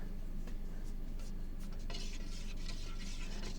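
Stirring a can of paint in a workshop, a continuous scraping, swishing stir close by with a few clinks against the can, and no talking.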